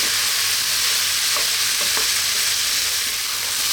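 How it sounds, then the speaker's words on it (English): Vegetable fried rice stir-fried in a hot pan, a loud continuous crackling sizzle with a few soft scrapes of stirring, close up and steady. "We actually have to fry the rice. Keep it moving."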